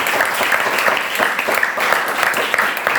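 A youth worship congregation at a church revival service gives loud, dense applause, the clapping continuous and close throughout the short stretch.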